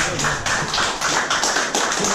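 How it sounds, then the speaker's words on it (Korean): An audience in an auditorium at a political forum lecture claps loudly in rhythmic unison, about four claps a second in a steady run of sharp, close bursts. "회장님 오셨는데 박수 한번 부탁드리겠습니다."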